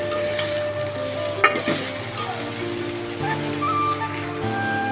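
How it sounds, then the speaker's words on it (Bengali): Green chilies hit hot oil with a close, continuous sizzle and bubbling fry, stirred through with a few utensil scrapes and a short louder clack near the start. "এই যে কাঁচামরিচ দিয়ে দিলাম"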